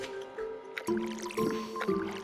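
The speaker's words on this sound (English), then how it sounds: "We're watering that one." Crops are watered in the farming game Stardew Valley: three quick squishy splash effects in a row over a quiet background tone.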